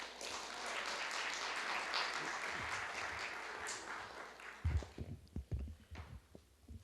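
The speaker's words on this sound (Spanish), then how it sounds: "también lo recibimos con un fuerte aplauso" A modest audience at a book presentation claps steadily for several seconds, then the applause thins out into scattered handling noises and bumps close to the microphone.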